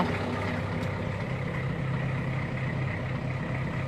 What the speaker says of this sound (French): ça sonne le diesel